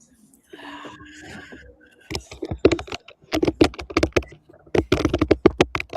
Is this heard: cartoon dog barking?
no